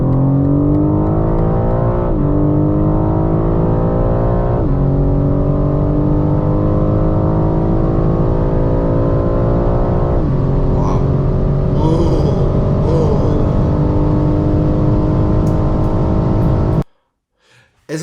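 A BMW M4 accelerates at full throttle through 0 to 100 km/h. The engine roars loud and close, climbing in pitch with several quick upshifts, then cuts off abruptly near the end.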